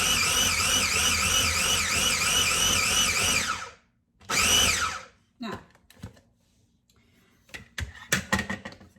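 A kitchen blender whirring loudly while pureeing avocado and banana into baby food, the motor pitch wavering, stopping, then one short burst before it falls quiet, followed by light handling clatter.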